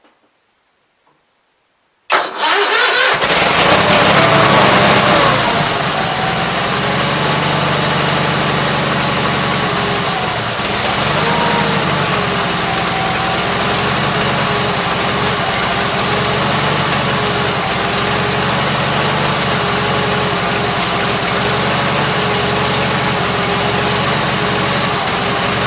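Gravely 8163-T riding mower engine, which has an oil leak, starting after a short silence and settling into a loud, steady, close-up idle with an even drone that holds for over twenty seconds without talk.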